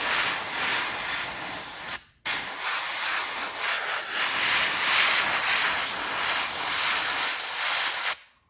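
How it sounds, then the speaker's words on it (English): Airbrush spraying paint at about 38 to 39 psi, a steady loud hiss that cuts off briefly twice, once early and once near the end, with no voices. "I got about 38, 39 pounds of pressure in the airbrush"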